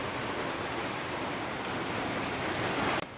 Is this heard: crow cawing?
no